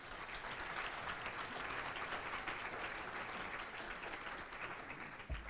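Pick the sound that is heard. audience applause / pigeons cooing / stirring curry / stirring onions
audience applause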